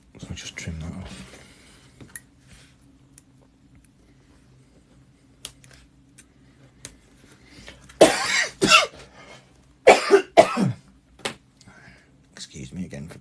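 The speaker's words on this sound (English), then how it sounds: "Excuse me again for coughing." A person coughs several times in quick bursts while working on a dry stone wall outdoors, loud and close, after a stretch of quiet handling noises.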